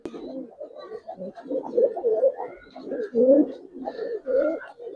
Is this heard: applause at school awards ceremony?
no